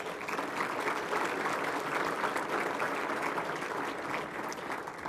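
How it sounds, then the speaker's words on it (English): Steady, dense applause from an audience at a university scholarship ring banquet honoring athletic students, a continuous wash of many hands clapping at moderate distance with no voices over it. "let's give them another round of applause, all right?"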